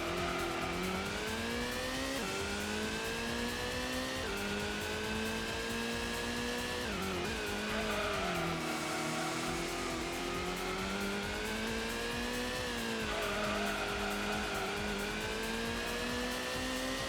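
Race cars in the Gran Turismo video game at Grand Valley, a continuous loud engine drone with rising and falling revs and gear changes throughout, no talking.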